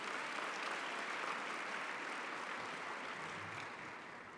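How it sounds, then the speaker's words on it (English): Audience at an awards gala applauding, a dense, even wash of clapping from many hands that holds steady and then slowly fades toward the end. "Let's give all of our sponsors a warm round of applause"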